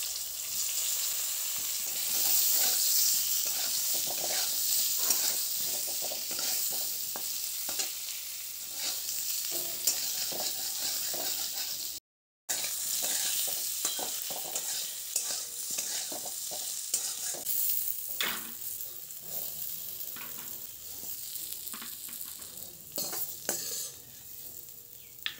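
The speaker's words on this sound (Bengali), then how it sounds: "ডিমটা তুলেই আমি অল্প একটু আবার তেল দিয়ে আলুটাকে ভেজে নিচ্ছি।" Potatoes frying in a little oil with salt and turmeric sizzle steadily and close, with frequent scrapes and clinks of a spatula stirring the pan and one brief dropout midway; no one speaks.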